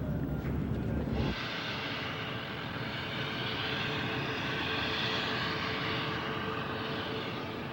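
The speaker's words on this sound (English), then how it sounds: "Now that 117s aren't top secret, they fly around the clock." A Lockheed F-117 Nighthawk stealth jet's engines roar loudly and steadily at an air base, a dense broadband jet rumble with a high whine that begins abruptly after a brief lower noise and holds without a break.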